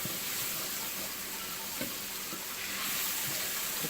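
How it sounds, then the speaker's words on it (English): Coconut curry shrimp gravy thickened with flour is stirred in a pan, giving a steady soft sizzle with faint scraping strokes, close and fairly quiet throughout, with no talking. "Stir this for another 2 minutes."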